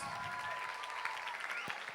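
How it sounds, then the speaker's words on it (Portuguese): A congregation at a Portuguese-language revival church service claps together in steady, dense applause, heard at a modest distance throughout. "Uma salva de palmas!"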